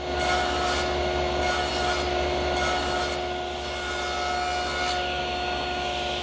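A table saw nibbles away the top and bottom of tenon ends on chair rails, a steady loud whirring drone with rhythmic bursts of cutting rasp as the wood is passed over the blade repeatedly.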